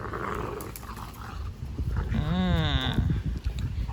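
A Dogo Argentino growls and grumbles during rough play, a drawn-out, wavering growl rising up close above background rustling and movement.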